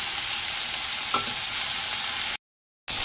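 Ground spices fry steadily in a pan with coriander powder, garam masala and chili powder, giving a loud, close, continuous sizzle with a faint stir. The sound cuts out abruptly for about half a second, then resumes.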